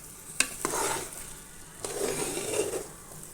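Tomato thokku cooking in oil in a pan, with a steady close sizzle and a few sharp scrapes of a spoon stirring it, all without any voices.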